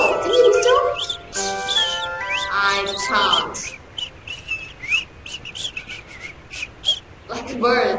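Bird-like whistling in the Disney Winnie the Pooh Baby PC game from 2001, a run of tonal chirps and warbling notes rising and falling, followed by a child's short spoken reply and scattered soft clicks.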